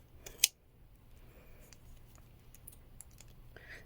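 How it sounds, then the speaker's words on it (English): Sharp scissors snip once through a bundle of yarn while making a pom pom, a single crisp cut near the start followed by quiet handling in a still room. "That's why you want kind of sharp scissors for this."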